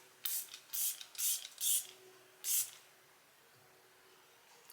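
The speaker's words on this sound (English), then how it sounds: "I am gonna go ahead and use a little bit of this spray right here" Several short hissing bursts of a pump setting spray mist out onto a face in quick succession, then one more after a pause, close and fairly soft, with no talking.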